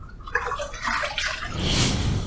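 Water splashes and swishes close by as a face is rinsed during a wet shave, a messy spray of liquid that grows louder and denser toward the end.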